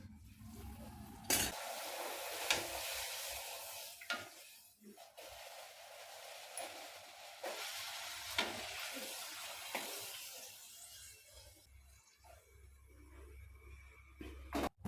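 Poori dough frying in hot oil for a tomato kurma meal, a steady broadband sizzle running throughout with occasional clatter of utensils and a brief quieter moment near the end, no voices.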